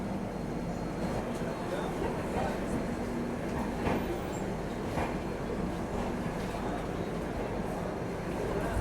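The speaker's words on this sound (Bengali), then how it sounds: "আমাদের ট্রেনটা জাস্ট ধানবাদ জংশন স্টেশন থেকে ছাড়লো" Low rumbling of the Rajdhani Express pulling out of Dhanbad Junction station, a steady mechanical drone with faint clanks, under a murmur of background voices.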